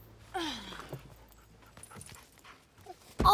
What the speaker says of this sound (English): you got a cute dog.